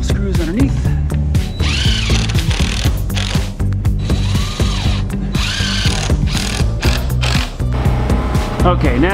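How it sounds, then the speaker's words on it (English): Screws being driven into a wall's secondary top plate, heard as loud, close power-driver whirring in repeated bursts with pitch swoops as the motor bogs down and spins up, with brief gaps between screws. "just a couple screws underneath."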